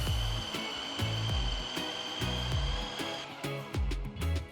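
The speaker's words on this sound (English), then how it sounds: "Close the food processor and blend everything for about 1 to 2 pulses." A food processor pulses tomatoes, onions, garlic and green chilies in quick repeated bursts, each short whirring pulse close and loud with a brief stop between.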